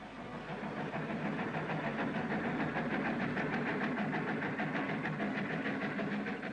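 A wartime military supply train departs over a repaired railway bridge, rolling along at a distance, its wheels giving a soft rhythmic clatter over a low, steady engine rumble.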